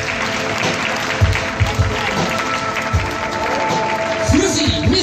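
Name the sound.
circus audience applause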